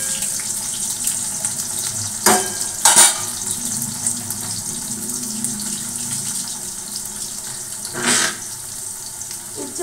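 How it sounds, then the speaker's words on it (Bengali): Bitter gourd frying in oil in a pan, a loud, steady hiss of sizzling oil close by, with a few sharp scrapes of a spatula at irregular moments. "দেখো উচ্ছেগুলো ভেজে নিচ্ছি ভালো করে, লাল করে কড়া করে ভেজে নিয়ে"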